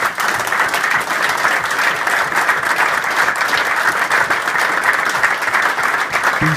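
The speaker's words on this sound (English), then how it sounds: "Can I have a round of applause for the MBS team?" A crowd at a site supplies launch event gives a loud, sustained round of applause, with no breaks in the clapping.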